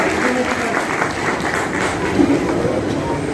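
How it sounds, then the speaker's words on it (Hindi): An audience at an Onam celebration in Navi Mumbai claps loudly and steadily, a dense continuous applause running throughout. "इनके लिए फिर दोबारा ताली बजाओ।"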